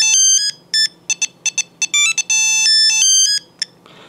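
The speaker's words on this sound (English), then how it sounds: "It's got some pretty cool little ringtones." A Nokia 8390 mobile phone plays a bright, beeping polyphonic ringtone melody, a quick run of short synthetic notes, loud and close with no voices.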